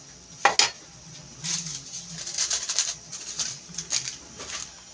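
A lid goes onto a pot of papaya simmering in coconut milk: a couple of sharp metallic clinks, then lighter clatters and scrapes of cookware close by, with a faint simmer underneath.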